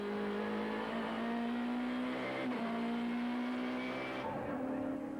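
Touring cars from the 1998 season race at Killarney circuit, sweeping toward a corner with a continuous loud, whining engine drone and shifting pitch as the pack passes, with a faint voice underneath.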